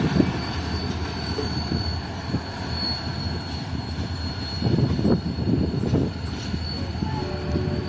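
Train passing at Bin Qasim near Karachi, a loud continuous rumble of wagons and wheels with a faint high wheel squeal holding throughout and brief clanks on top.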